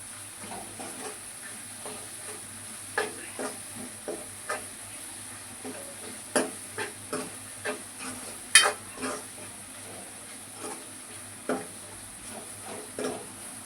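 Tomatoes sauté in a pan for vajdi, with a steady low hiss of frying broken by irregular spatula taps and scrapes.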